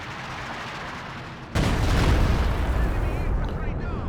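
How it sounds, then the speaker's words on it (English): Artillery shells explode in a Soviet commander match of a strategy video game, a sudden heavy blast breaking in over a quieter battlefield bed and rumbling on for a few seconds. "there's a pretty long delay between the shells"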